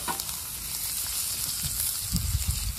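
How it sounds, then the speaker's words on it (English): Steaks sizzle steadily in a cast iron skillet over a campfire, a dense, continuous crackling hiss close up with a few louder pops near the end and no talking. "I believe the steaks are ready to flip."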